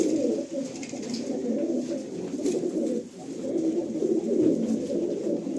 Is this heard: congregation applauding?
no